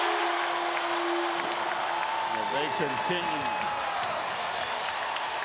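A home crowd at an NBA playoff game between the Indiana Pacers and Cleveland Cavaliers applauds and cheers as a dense, steady roar throughout, with a commentator talking over it.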